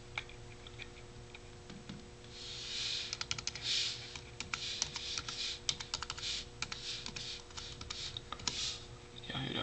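Quick typing on a wireless keyboard paired with an iPad, close, crisp key clicks in uneven bursts that pick up speed halfway through, with no talking.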